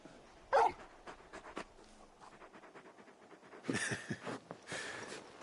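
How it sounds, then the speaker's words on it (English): A big dog in the video game Final Fantasy XVI pants in quick rhythmic breaths with a sharp whimper near the start and more whining later, close and moderately quiet. "You're just a big puppy, aren't you?"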